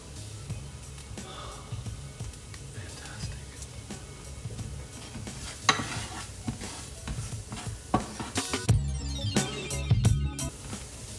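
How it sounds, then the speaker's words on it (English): Turkey meatballs sizzle and crackle in a hot pan while a utensil stirs and scrapes, growing louder toward the end, with occasional faint voice sounds. "Then it will start to sizzle momentarily."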